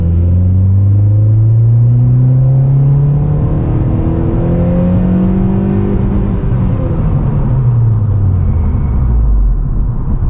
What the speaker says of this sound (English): All he needs is the third gear pull.